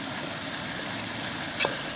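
Onions crisping in a pan for chicken chukka, a steady close sizzle and crackle with a faint scrape of stirring near the end.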